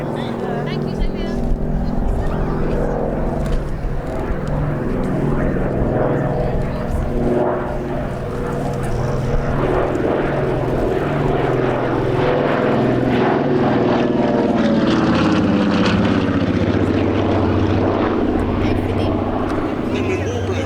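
A Lockheed 12A Electra Junior propeller aircraft runs its engines with a steady droning roar that swells slightly, while a voice talks over it throughout.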